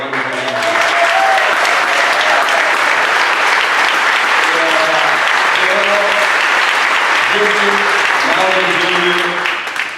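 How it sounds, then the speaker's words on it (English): A standing audience at a Hall of Fame induction ceremony claps loudly and continuously, a thick wash of many hands with scattered voices and some low tonal sounds mixed in throughout. "I really would love to have you stand so we could all have you all standing and give you a round of applause"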